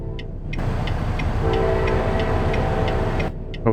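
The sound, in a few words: train passing in the video game American Truck Simulator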